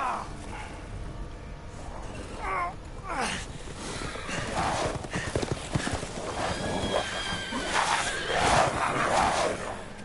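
Horse hooves clatter and a horse whinnies amid a busy, noisy scene in the video game Resident Evil Village, with shouting and crowd noise throughout.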